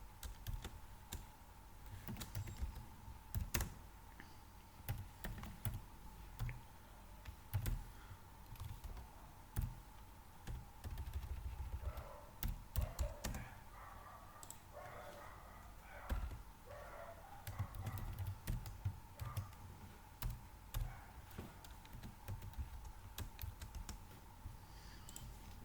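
Computer keyboard typing while writing code, quiet and close, with a steady patter of soft key clicks and occasional louder key strikes continuing throughout, no talking.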